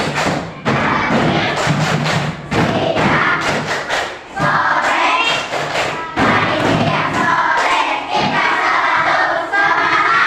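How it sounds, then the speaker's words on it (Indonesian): A primary school class performs a rhythmic clapping chant, rapid bursts of claps and thumps mixed with children's voices shouting together in short rhythmic phrases with brief pauses between. "Kita tepuk dulu ya."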